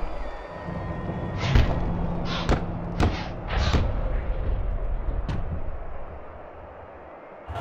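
Punches land in the Fight Night 4 boxing video game, a handful of heavy thuds and slams spaced irregularly over a noisy crowd backdrop, with the impacts fairly close and punchy.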